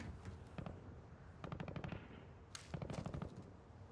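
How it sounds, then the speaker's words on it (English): Rapid bursts of automatic gunfire from a firefight in the Warzone video game, several rattling volleys with short gaps, sounding somewhat distant and fairly quiet, with no talk. "Big firefight over there."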